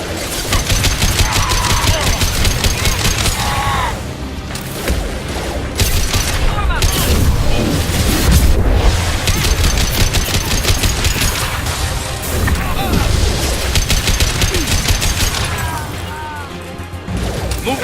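Heavy combat gunfire in the video game Mass Effect 2, with dense bursts of automatic fire, crashes and booms hammering almost continuously at close range, pausing briefly now and then, with occasional voices mixed in.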